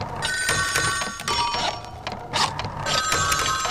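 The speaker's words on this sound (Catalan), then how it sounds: "la cançó començava amb el so identificatiu dels telèfons." An old 1984-style telephone rings at the start of a song, a loud close mechanical bell trill in repeated bursts.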